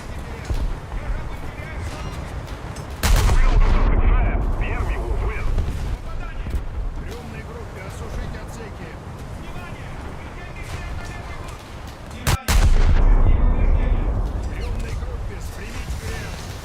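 Heavy naval gunfire explosions and shell hits in a warship video game, loud booming bursts around 3 and 12.5 seconds over a constant rumbling battle bed, with a player talking throughout.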